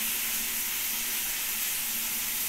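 Eggs fry in hot oil for an egg curry, giving a loud, continuous, even hiss and sizzle from start to finish, with no voices.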